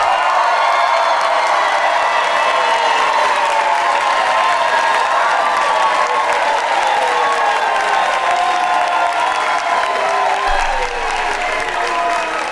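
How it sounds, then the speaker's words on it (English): Sustained audience applause at a stand-up comedy show, a dense, steady wash of many hands clapping with some cheering mixed in, loud and continuous throughout. "Why would y'all start clapping?"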